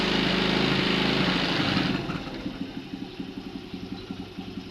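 A small engine on a motorcycle with a faulty voltage regulator and weak battery runs close by, a loud buzzing drone that drops to a quieter, pulsing idle with a steady putter.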